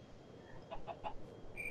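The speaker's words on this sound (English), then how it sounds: "the chicken" Chicken clucks from the Tekkit mod of Minecraft, three short soft calls in quick succession, fairly faint over a steady background hiss.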